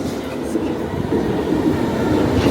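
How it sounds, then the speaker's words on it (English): A London Underground Victoria line train rumbles steadily in a tunnel or station, giving a dense low roar with faint wheel noise throughout. "So we'll go on the underground Victoria line."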